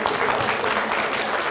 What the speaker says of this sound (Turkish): il başkanımızı şöyle kuvvetlice bir alkışlayalım